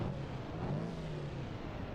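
Racing-car engine in a video game on the Nürburgring Nordschleife combined layout, a loud steady drone with a sustained low hum that shifts slightly in pitch, continuous for the whole stretch with no talk.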